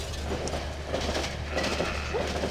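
A train rumbles past in the horror video game Cry of Fear, a steady low rolling drone with faint clattering and a few higher metallic tones, continuous and fairly close throughout.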